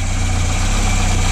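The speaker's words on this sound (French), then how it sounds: "Comme ça t'entends le bruit du moteur." A Peugeot 106 engine idles with a steady, low hum and even rumble throughout, close and loud, with no talking.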